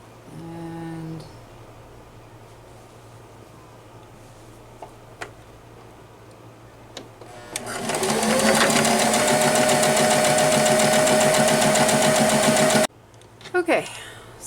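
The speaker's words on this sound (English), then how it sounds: "now I'm going to sew the third one on" A sewing machine stitches strips of purse lining together, starting after a quiet stretch with a rising whir, then running loud and steady for several seconds before stopping abruptly, followed by a short burst of handling noise.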